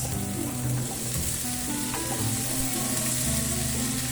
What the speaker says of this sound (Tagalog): igisa muna natin sila